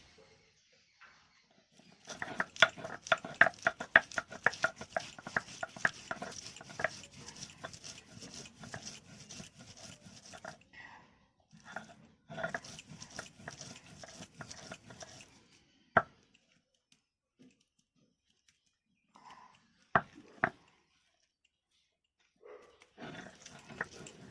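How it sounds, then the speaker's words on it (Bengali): Around twenty to twenty-five garlic cloves are pounded into a paste, with bursts of rapid, close thudding and grinding broken by pauses and a few isolated sharp knocks. "তার জন্য আমি রসুনগুলো বেটে নিচ্ছি"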